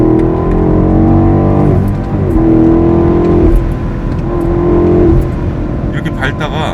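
A BMW X7 M50i with its V8 engine, driven in Sport Plus mode, gives a loud, continuous exhaust drone while moving. The tone rises and falls with throttle, and a voice talks over it throughout.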